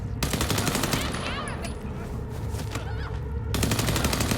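An enemy firing a machine gun in the video game Vampire: The Masquerade – Bloodlines 2, rapid loud continuous bursts that pause briefly in the middle and resume, with a voice speaking over the din.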